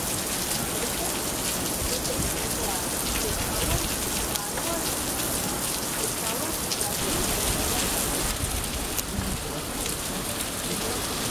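Steady, dense rain pours down on a town street in Suzdal in August, a loud unbroken hiss of drops hitting surfaces for the whole stretch, with no voices standing out.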